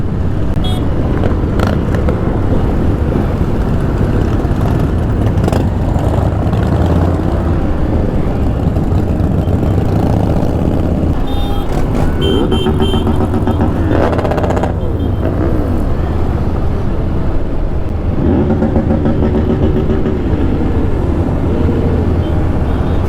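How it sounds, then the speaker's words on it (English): Many motorcycles on a street toy run rumble and rev together, engines loud and close with occasional throttle blips rising over the constant drone, a voice speaking at times. "Few rev bombs, not doing any harm."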